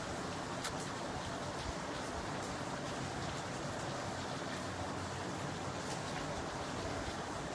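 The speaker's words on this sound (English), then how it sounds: "it's raining now" Steady, dense rain hiss fills the whole stretch, a constant wash of drops with a low rumble underneath and no voices.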